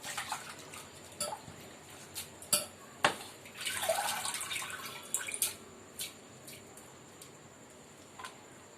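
Raw potatoes are rinsed in a bowl of water to wash off starch, giving faint sloshing, dripping and light splashes, with occasional clinks of the vessel at close range.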